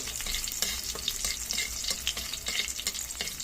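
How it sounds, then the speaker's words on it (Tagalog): Tomatoes sizzle and fry steadily in a pan as they are sautéed, a dense, continuous crackle with small bursts of spattering throughout and no talking. "igigisa tayo guys ng kamatis"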